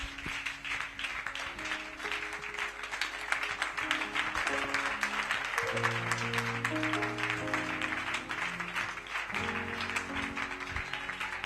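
A church congregation claps continuously in dense applause at a Pentecost service, with voices and sustained tones rising underneath.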